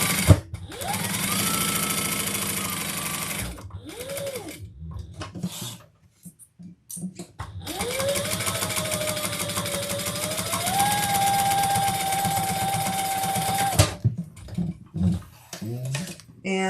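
Sewing machine stitching around the edges of a fabric handbag, running in long steady whirring stretches with a short stop in between, close and loud, while a person talks over it.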